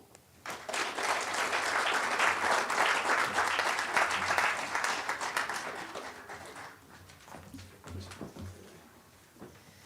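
An audience at a corporate identity launch programme gives a round of applause for a speaker, the clapping rising quickly into a full, sustained roar, then thinning and tapering off over the last few seconds.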